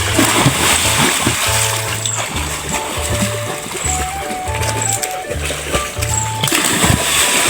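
Near, repeated splashing and churning of water as people bathe and dive in a village pond, heard over a rhythmic, tonal musical backing.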